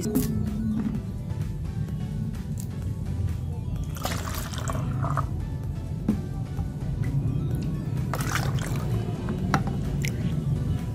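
Plain water poured into grape vinegar for a homemade hand sanitizer, a steady liquid splash with a few wetter bursts of gurgling and dripping, close by and moderately loud, with no talking.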